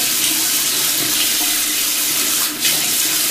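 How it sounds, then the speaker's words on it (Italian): Hot water runs from a tap in a strong, steady gush, loud and close, with a brief dip near the end as the flow is disturbed. "Lascio l'acqua calda e lo so che si spreca un sacco d'acqua"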